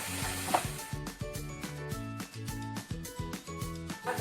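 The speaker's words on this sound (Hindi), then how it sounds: "इन मसालों को हमें 2 से 3 मिनट तक प्याज अदरक लहसुन और टमाटर के पेस्ट के साथ हमें अच्छी तरह से भूनना है।" Ground spices frying in a pan with onion, ginger, garlic and tomato paste give a close, steady sizzle, with repeated scraping and stirring strokes in a regular rhythm and a brief louder clink early on.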